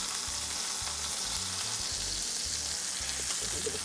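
A pot roast sears in a hot pan, a loud steady sizzle and crackle close up, with faint scraping stirs and no talking.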